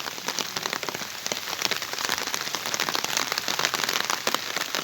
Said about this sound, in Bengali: ঝিমঝিম বৃষ্টি পড়তেছে, রিমঝিম বৃষ্টি।